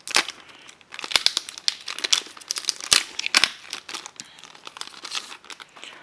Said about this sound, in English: I'm going to open up some of these promo cards first